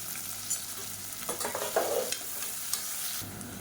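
Onion, garlic and curry leaves fry in a pan for a Tamil kulambu, a steady close sizzle broken by scraping stirs of a spoon, with no talking.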